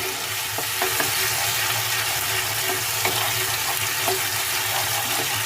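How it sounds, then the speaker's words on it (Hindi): Ginger and garlic sizzle steadily in a frying pan over medium heat, a constant close crackling hiss with occasional soft clinks of a stirring spoon. "और अदरक लहसुन को हम भून लेंगे 2 मिनट।"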